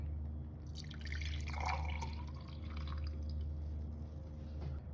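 Homemade cherry juice poured from a bottle into a glass, a faint trickling and dripping of liquid with soft splashes, quiet and close over a low steady hum.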